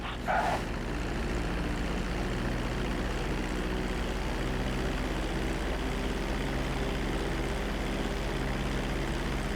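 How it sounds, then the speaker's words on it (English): A fixed-wing airplane in the GTA V video game descends toward the runway to land, a steady, loud engine drone with a low hum running throughout and no voices, after a brief brighter burst at the very start. "Start reducing the plane's altitude gradually so you're just above the runway as you approach."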